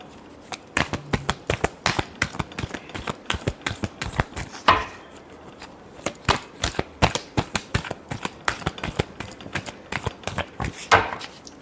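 Tarot cards being shuffled by hand in a steady run of crisp, papery riffles and snaps, close and fairly loud, with a couple of brief pauses between bursts.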